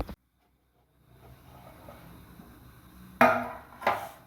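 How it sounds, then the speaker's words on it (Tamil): A plate set over a sugar-free cake tin and flipped, giving two sharp clattering knocks close by, the second a little softer, after near silence. "இதுக்கு மேலே வந்து ஒரு பிளேட்டை மூடி திருப்பிடலாம்"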